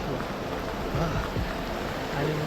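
Stream water rushes at Adai waterfall during monsoon rain, a steady broad roar of flowing water, moderately loud and continuous, with no talk.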